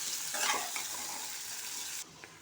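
Masala of onions and spices sautéing in a pan for a soya bean gravy, a bright steady sizzle with a couple of soft stirring scrapes, close and continuous with no voices.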